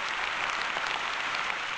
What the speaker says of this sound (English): Just a round of applause for Fur Buddy Art.